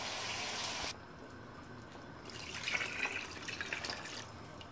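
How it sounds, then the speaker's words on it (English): Stock being poured into rice in a pot for lamb pilau, a faint close liquid splash and trickle with a quiet pause before the pouring resumes, no talk. "So we'll put the same amount of stock in there."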